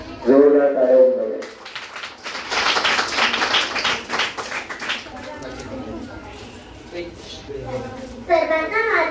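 An audience at a gathering bursts into a short round of clapping, a dense patter of many hands that rises loudly and fades, with voices speaking just before and after.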